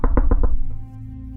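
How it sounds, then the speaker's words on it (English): Four firm, evenly spaced knocks on a wooden door, loud and close, followed by a fading low hum and no voices. "You hear his telltale knock on the door."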